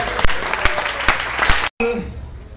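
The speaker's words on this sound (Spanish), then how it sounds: "Denle un aplauso fuerte al Señor." A congregation applauds during a church service, loud, continuous clapping that cuts off abruptly after a couple of seconds into a brief moment of room sound.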